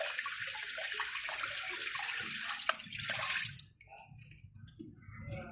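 Water poured and splashing over fish in a sink, a loud continuous gush for about three seconds that drops to quieter trickling and dripping.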